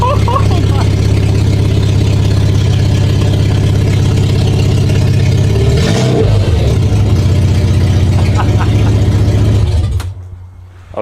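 A car engine with its exhaust back box removed idles with a loud, deep drone, then revs sharply around the middle and settles back to a rumbling idle before cutting off near the end.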